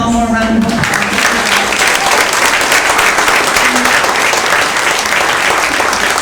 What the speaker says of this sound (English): So if we could give our city workers one more round of applause.